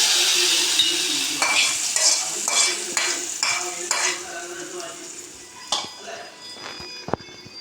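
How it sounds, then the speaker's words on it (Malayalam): Mustard seed tempering poured into a mango curry sizzles loudly and steadily, with a burst of crackling and popping near the start, then settles into a softer, continuous hiss with a few clinks of a metal utensil at the end. "കടുക് വറുത്ത് തയ്യാറായിട്ടുണ്ട്. നമുക്കത് കറിയിലേക്ക് ഒഴിച്ചു കൊടുക്കാം."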